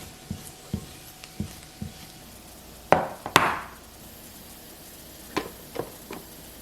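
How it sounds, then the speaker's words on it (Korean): Sliced onions sautéing with a little salt and oil in a pan, a soft steady sizzle punctuated by sharp clicks and clatters of a utensil against the pan, close and fairly quiet, with no talking. "소금과 오일 약간 넣어 양파가 부드러워질 때까지 볶아주시고요"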